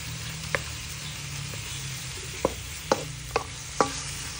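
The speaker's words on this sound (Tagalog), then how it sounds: "Halo lang ng halo guys." Squid adobo fries in a pan while being stirred, a low steady sizzle broken by a handful of spaced spoon taps and scrapes against the pan, clustered toward the end.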